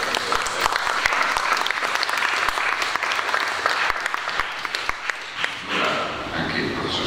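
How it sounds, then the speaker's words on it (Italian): Loud, dense audience applause at an Italian talk on reading in Italy, sustained for several seconds before fading, with a voice speaking briefly near the end. "facciamo però un applauso a tutti e quattro."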